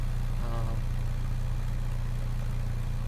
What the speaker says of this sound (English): Has a nice exhaust note to it.